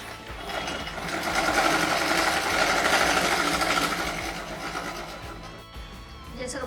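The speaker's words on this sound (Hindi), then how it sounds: "जैसे हमने स्टिचिंग डाल दी है" A sewing machine stitches the lining of a blouse with a continuous rapid mechanical chatter that swells and eases slightly, then slows near the end with a few clicks.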